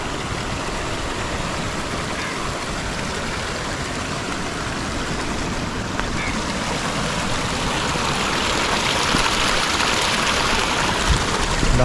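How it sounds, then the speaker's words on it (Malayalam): Water rushes continuously through a channel across a farmed field in a village, a dense, steady roar that grows slightly louder toward the end, with no one speaking. "നമ്മുടെ കൃഷി ചെയ്ത സ്ഥലത്തൂടെ വെള്ളം ഇങ്ങനെ കീറി ഇറങ്ങി പൊക്കൊണ്ടിരിക്കുകയാണ്"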